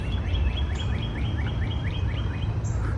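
Birds sing outdoors in a natural setting, a repeated series of short rising chirps over a steady low rumble of wind or distant surf, fairly faint and continuous with no voices.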